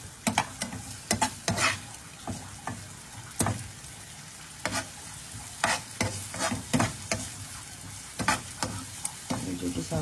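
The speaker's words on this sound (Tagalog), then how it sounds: "Okay, gisa-gisa natin yan. Gisa natin yan. Mahalo natin yan lahat." Corned beef sautéing in a hot pan, a steady sizzle broken by frequent sharp scrapes and clacks of a utensil stirring it, close and fairly loud throughout.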